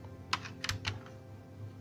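Keys on an old, dusty A4Tech KB720 computer keyboard being pressed and handled, giving a few quick, soft clicks in a short cluster early on, then fading to quiet room hum.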